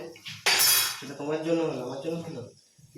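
Onions being stirred in a cooking pan with a metal utensil while making a chicken dish, giving a loud scrape and clink followed by sizzling, with a voice speaking briefly.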